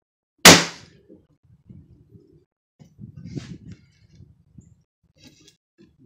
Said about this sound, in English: what I'm going to do now is shoot some brads in it to help